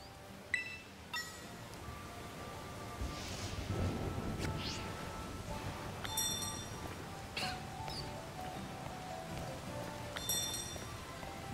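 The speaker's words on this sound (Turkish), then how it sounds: "Yağmur yağıyor." Steady rain falls in Pokemon Scarlet, a soft continuous patter with a few small high chirps and clicks from the game scattered through it, no talk over it.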